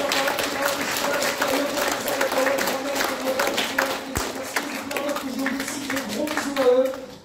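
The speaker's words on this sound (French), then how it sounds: "Et de gros applaudissements pour tous mes proches et collègues" At a live pop-culture conference in Bordeaux, an audience applauds in a sustained, dense wash of clapping, with crowd voices and a speaker talking over it.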